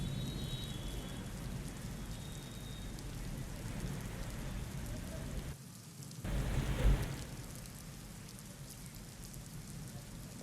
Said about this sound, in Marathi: पुण्यामध्ये अवकाळी पावसाने चांगलीच हजेरी लावली आहे।